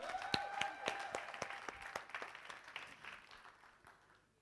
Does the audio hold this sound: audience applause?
yes